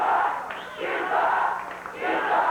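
Crowd at a 1990 Memphis USWA wrestling show cheering and yelling as Brickhouse Brown walks down the ring apron, a loud sustained roar with swells.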